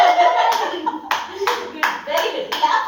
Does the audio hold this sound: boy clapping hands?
yes